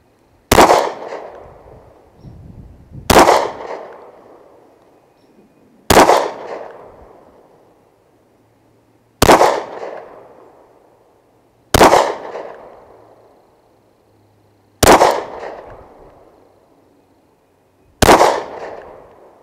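Smith & Wesson SD40VE .40 caliber pistol fired at an outdoor range: seven loud, sharp shots spaced roughly two to three seconds apart, each with a short decaying echo, and no talking.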